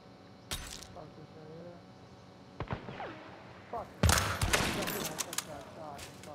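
Gunfire in the Hunt: Showdown video game, scattered shots at first, then a dense loud burst of rapid firing near the end over faint background noise.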